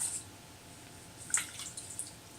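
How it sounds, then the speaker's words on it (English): A stamp inked with metallic acrylic paint is dropped into a container of water, making one faint, brief plop with a few light drips over quiet room tone. "Into the water it goes."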